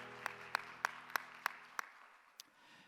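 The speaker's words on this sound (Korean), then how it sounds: "우리 박수로 서로를 응원하고 축복합시다" A congregation at a church youth worship service claps together in a steady rhythm, about six evenly spaced sharp claps heard from some distance, then a lone final clap as it fades.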